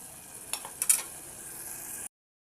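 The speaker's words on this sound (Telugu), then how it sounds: "ఇప్పుడు రెండింటిని బాగా కలబెట్టేసి దీన్నంతా పచ్చివాసన పోయేంత వరకు ఉడికించండి" Tomato and ginger-garlic paste fry in a pan for a potato chicken curry, giving a soft, steady sizzle broken by a few quick scraping stirs before cutting off abruptly.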